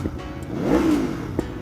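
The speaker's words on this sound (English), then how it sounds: "It pops every time you rev it." An Aprilia Tuono V4 motorcycle running a race ECU flash and sprint filter gives one short, close engine rev that rises and falls, with a sharp pop from the exhaust near the end.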